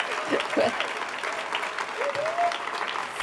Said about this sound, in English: we should clap some more